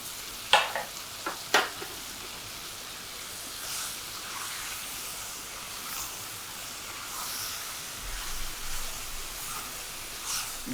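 Aromatic vegetables hit hot oil in a pan and sizzle steadily, with a few sharp clatters of stirring near the start and a continuous close frying hiss throughout.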